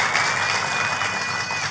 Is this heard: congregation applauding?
yes